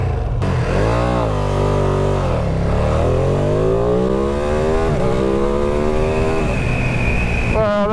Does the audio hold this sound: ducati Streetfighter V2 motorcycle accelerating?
yes